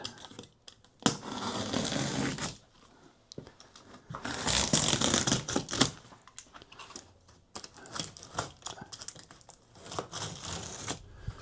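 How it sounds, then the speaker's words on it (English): A taped, glued and stapled shipping box holding a Lectric XP4 e-bike is sliced open with a box cutter, giving bursts of scraping, crinkling cardboard and tape tearing in several close, uneven passes with short pauses between. "I'll take box cutter and we'll open it up"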